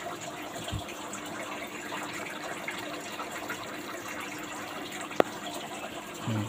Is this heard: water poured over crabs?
yes